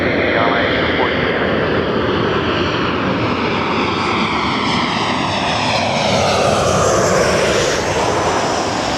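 An airliner on final approach to land on runway 24 left at Los Angeles International Airport, its engines a loud steady roar and whine that holds throughout and shifts slightly in pitch as it passes close by.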